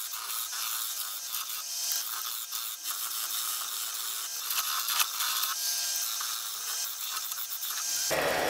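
A woodturning lathe cuts a large spool of bone-dry, very hard beech, working in from the outside and throwing long, thin, stringy shavings; a steady, bright, buzzing scrape runs continuously and close up, with no talk.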